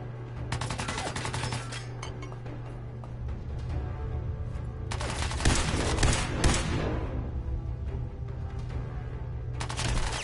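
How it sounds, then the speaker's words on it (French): Rapid gunfire in the video game Fallout 4: dense bursts of automatic fire and shots that swell and fade over a steady low hum, loudest around the middle of the stretch. "Continue à tirer."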